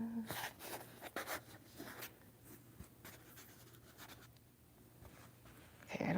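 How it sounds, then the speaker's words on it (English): Adhesive crackling and scratching against cosplay foam during a Glamrock Chica costume build, a faint irregular rasp that stays close and quiet, with a person talking over it. "It's like crackling against the foam."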